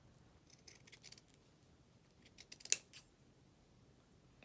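Scissors snipping partway through a knitted beanie to make fringe: faint, sparse little cuts scattered through near-silence, with one sharper snip in the middle.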